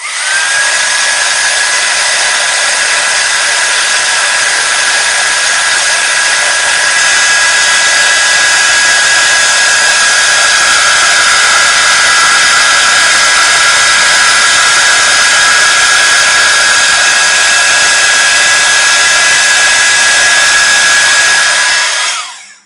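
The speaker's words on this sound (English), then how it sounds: "And then we're going to heat emboss that." A heat tool blows a steady, loud, high whine for about twenty seconds while melting silver embossing powder on a card, ending abruptly when switched off.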